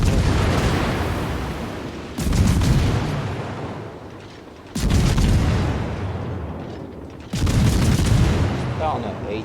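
Heavy naval gunfire booms out in three loud, broadband salvos about two and a half seconds apart, each one decaying into rumbling noise before the next lands, in a battleship combat video game.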